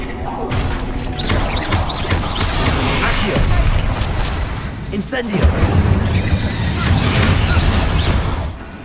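Explosive spell blasts from the video game Hogwarts Legacy, with loud booming bursts and crashing impacts over a dense, busy battle mix while voices call out.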